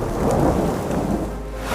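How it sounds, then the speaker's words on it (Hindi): Heavy rain pours steadily in a dense, continuous hiss, with low thunder rumbling underneath throughout the short stretch and a louder swell at the very end. "और उस रात ऐसी बारिश हुई जैसी पहले कभी नहीं हुई थी।"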